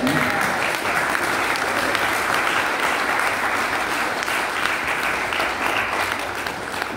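A church congregation claps and cheers in a steady, dense wave of applause that holds strong and close for several seconds without letting up.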